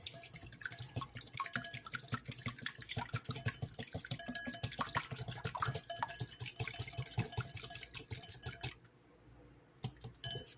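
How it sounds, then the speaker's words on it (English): An egg is whisked in a bowl, rapid close clicking and tapping strokes with a wet squish that run steadily for several seconds, then stop, with a couple of later taps. "You want to get this whisked up very well."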